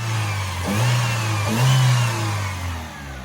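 A 1995 Ford Aspire's small engine idles, then is revved twice in quick succession, each blip rising and falling before settling back to a steady idle, heard up close with no talking.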